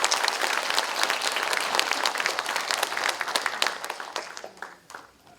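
Big audience applause at a Democratic Party political rally in Busan, dense clapping from a large crowd filling the space, steady and loud before tapering off and fading out toward the end.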